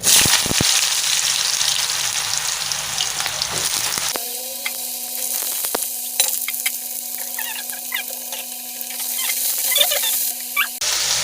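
Cut potato and ridge gourd drop into a hot pan of oil, setting off a loud, close sizzle that eases into a steady crackling fry with small pops and stirring clatter.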